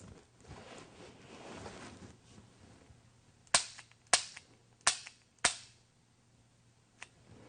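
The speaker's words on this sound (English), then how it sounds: "I'm going to fire 2 dry fire shots on the right target and then 2 dry fire shots on the left target" Four sharp, evenly spaced dry-fire trigger clicks from a firearm aimed at targets, with a fainter fifth click after a pause, close and crisp against a quiet background.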